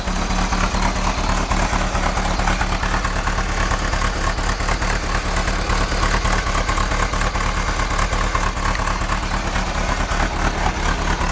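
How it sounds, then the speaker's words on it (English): A noisy generator engine runs close by in a steady, loud idling drone with an even low hum and no break, with no talk over it. "Generator's real noisy."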